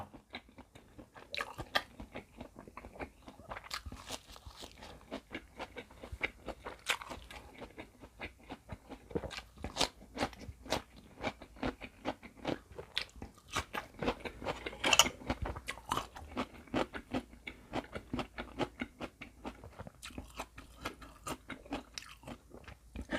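Close crunchy biting and chewing of a spicy Thai sausage salad with spring onion, red chilli and roasted peanuts, a steady run of wet crisp crunches with no speech.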